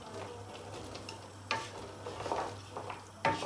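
Homemade peanut soup simmers gently in a pot with quiet bubbling, soft pops and a couple of sharper clicks close by.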